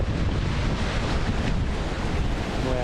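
Surf and wind on Little 5 Mile beach, a steady, loud wash of breaking waves with gusting wind buffeting the microphone, continuous throughout with no voices.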